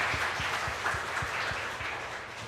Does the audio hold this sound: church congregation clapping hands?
yes